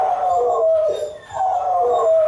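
A dog left home alone with separation anxiety howls twice in long, loud, mournful wails that are close and clear, with a short dip in between.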